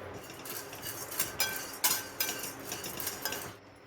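Chana dal dry roasting in a pan, with irregular rattling and scraping as the lentils are stirred, small clinks and rustles rising and falling, fairly close and moderately quiet.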